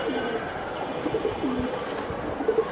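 Giribaz pigeons at a market sale coo in short, low, throaty phrases, fairly close, over a steady murmur of background noise.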